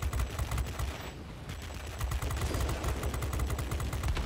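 Rapid machine gun fire from a fighter aircraft in World of Warplanes, flying the XF5U Pancake heavy fighter: fast repeating bursts over a low engine drone, with a brief lull near the start.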